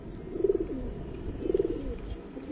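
A Giribaz pigeon coos twice in soft, rolling phrases, close by, over a low background murmur.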